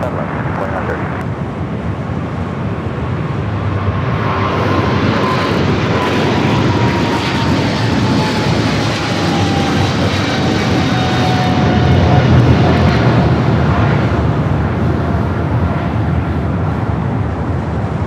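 A fixed-wing airliner lands on runway 25 left at Los Angeles International Airport, a loud sustained jet engine roar with a slowly sliding whine, swelling toward the middle and staying near the whole time amid wind noise.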